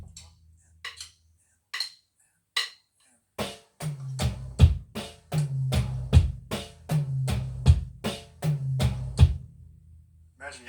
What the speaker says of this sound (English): Fill number 3 is another 8-note metal fill